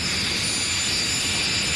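A jet-powered drag racing car, a 1993 Camaro body, roars with a steady broadband jet engine blast that stays loud and constant throughout, with no voices over it.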